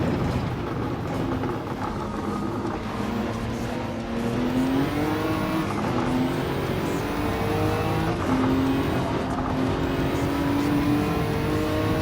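Race car engine in Gran Turismo 7, a continuous high-revving drone with shifting pitch as the car slows for a braking zone, steady and moderately loud with no talk over it.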